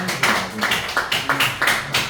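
Short rhythmic claps from a small group of people at a Korean gathering, sparse and close, roughly eight quick bursts over a couple of seconds with no speech.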